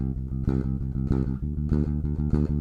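A bass guitar plays a chord progression with strongly accented downbeats, punchy low notes landing in a steady groove, close and loud with no voices.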